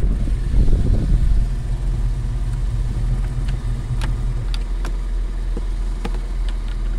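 The small four-cylinder engine of a 2003 Toyota MR2 Spyder runs with a steady low rumble after a brief swell. Faint clicks and knocks sound near it, and no one speaks.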